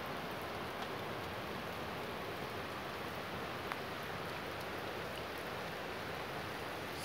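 Rain falling over a cove of Lake Lungern in Switzerland on a warm day, a steady even hiss of drops holding at one level from start to end, no voices.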